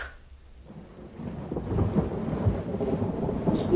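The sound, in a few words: thunderstorm with thunder and rain in an audio story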